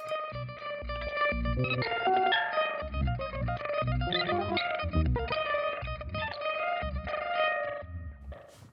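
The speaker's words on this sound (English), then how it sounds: "Some really crazy sequencing happening here." An electric guitar runs through a sequenced effect chain from Arturia FX Collection, producing rapid rhythmic pulsing notes with chopped, gated stutters and bright shimmering tones that keep a steady, loud, busy pattern throughout.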